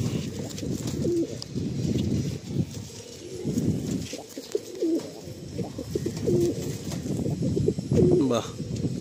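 White female Madrasi pigeons coo repeatedly at close range during a release, their soft, rolling calls recurring every second or two under murmuring voices nearby.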